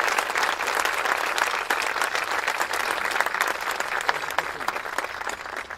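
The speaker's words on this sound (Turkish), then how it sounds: "kocaman bir alkış istiyorum" Steady, dense applause from a graduation ceremony audience, a full crowd clapping continuously and evenly at moderate loudness throughout, with no voices rising above it.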